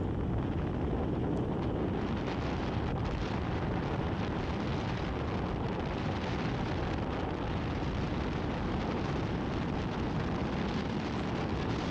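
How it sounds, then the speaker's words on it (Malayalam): Strong wind roars without a break across a microphone on a seashore near Rameswaram, with fishing boats out at sea, a loud, steady buffeting rush that fills the whole twelve seconds and carries no talk. "നല്ല കാറ്റാണ് ഇങ്ങനെ കാറ്റടിച്ചുകൊണ്ടിരിക്കുന്നുണ്ട്"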